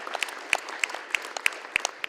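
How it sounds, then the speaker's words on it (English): Applause at a risk management forum session in Kyiv, sparse and distinct, with individual sharp claps spaced in a loose rhythm, fairly close and clear, with no talk over it. "we're going to give him an absolute huge round of applause"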